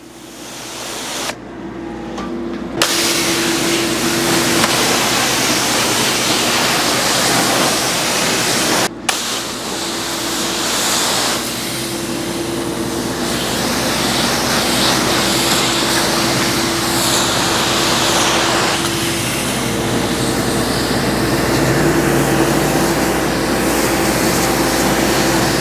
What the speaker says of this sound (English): With the dual lance, you can control your pressure.